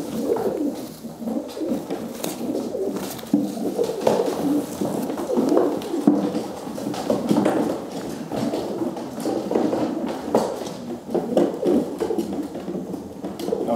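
Young racing pigeons in a loft keep up a continuous soft, murmuring cooing, a steady layered bed of calls from many birds close by.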